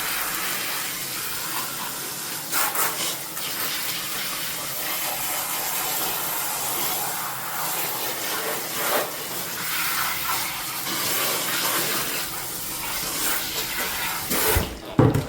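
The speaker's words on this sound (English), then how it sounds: "I'm just rinsing out all of the conditioner." Water runs steadily from a sink tap as conditioner is rinsed out of a bob wig, a continuous close hiss and splash that ends in a brief clatter of handling.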